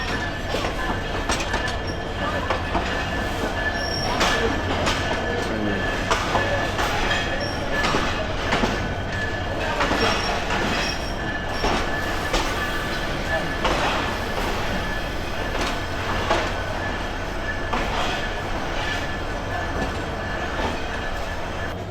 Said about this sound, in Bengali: মনে হয় কুড়িগ্রাম এক্সপ্রেস চলে গেল।